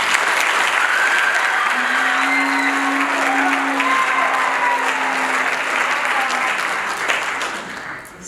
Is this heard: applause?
yes